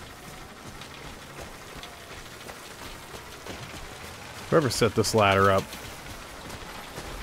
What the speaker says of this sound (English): It's always raining.